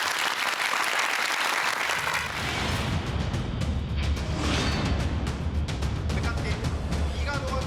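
Audience at a Labour Day special lecture on the fourth industrial revolution breaking into applause to welcome a professor, a dense sustained clapping that swells in after about two seconds and continues steadily, close and full.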